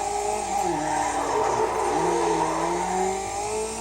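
A stock concept car in the Need For Speed Underground racing game revs hard through a drift, its engine note rising and sweeping continuously with a faint tire skid underneath, loud and close with no talk.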